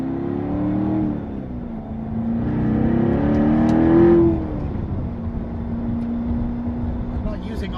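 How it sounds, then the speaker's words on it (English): A 2014 Chevrolet Corvette Stingray Z51 engine revs up through its range with a throaty exhaust note, peaking then settling into a steady drone as someone talks over it. "As you can hear, a little throatier note to the exhaust."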